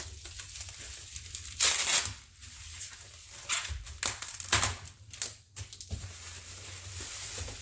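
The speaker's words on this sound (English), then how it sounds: "trying to take this dang tape off" Packing tape is peeled and torn off a mail package in several short crackling rips and crinkles, close and fairly sharp, separated by quieter pauses.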